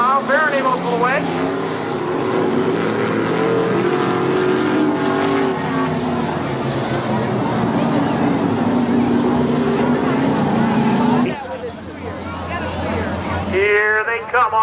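Dirt modified race cars roar around Afton Raceway in 1992, a dense, steady engine drone at close range that holds loud throughout, with a brief dip and change near the end, under an announcer's commentary.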